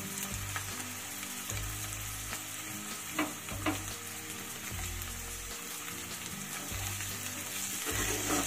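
Chopped tomatoes fry with softened onions in a pan, giving a continuous close sizzle while a utensil scrapes and stirs in regular strokes, with a few sharper clinks along the way.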